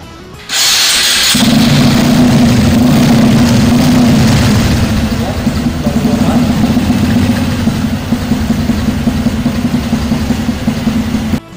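An engine started after maintenance, with a brief cranking burst, then a loud, steady running drone that continues to the end, while a person talks over it.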